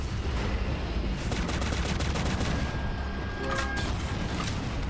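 Rocket launcher fire in the Shadowgun Legends video game sounds as a dense, continuous barrage of booms and blasts under a loud, steady layer of game noise, with a faint tonal whine near the end.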